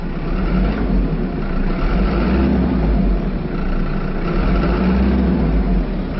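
A large turbo diesel engine in a 2012 Toyota Coaster bus rumbles loudly and steadily, its low drone swelling slightly as it's revved, heard from close inside the vehicle.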